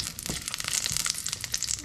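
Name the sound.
garlic frying in mustard oil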